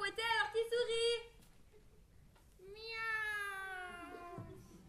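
A young actor in a youth theatre production of Alice imitates a cat with a long, drawn-out vocal meow. A short burst of voiced speech comes before it.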